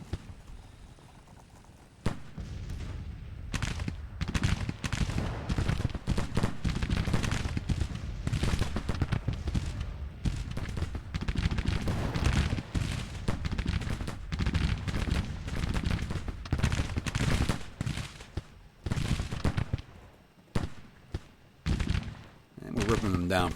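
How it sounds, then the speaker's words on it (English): Infantry regiments, including Texas Infantry, fire volleys of muskets in a Civil War strategy game battle at Cairo, a dense, continuous crackle of overlapping shots and battle din with occasional louder bursts. "MSG, 1st, 2nd, and 5th Regiments, 6th MSG, and the Texas Infantry firing into them."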